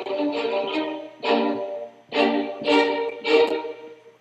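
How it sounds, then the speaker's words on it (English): An East West virtual instrument plays from a MIDI controller in Reaper, sounding as a series of sustained, slightly distorted tonal notes in about four separate phrases, with short gaps between them. "You'll play your MIDI controller and it should sound something like this."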